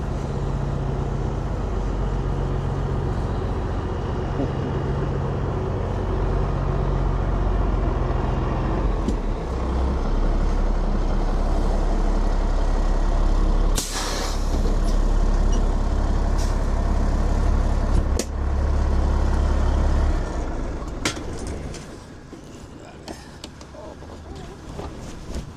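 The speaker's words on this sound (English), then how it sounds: "Beautiful truck." A 1985 Kenworth K-100 truck idles with a deep, steady diesel rumble close by, broken by sharp hissing bursts of its air brakes, with the engine note settling lower near the end.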